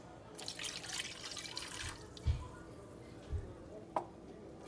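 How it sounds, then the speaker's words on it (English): A marinade of juice, Worcestershire sauce, honey and hot sauce pours over ribs, heard as faint liquid trickling followed by a few soft splashes and drips. "I'm gonna pour this in there with the ribs"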